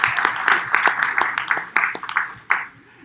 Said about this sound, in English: a big round of applause for Eugene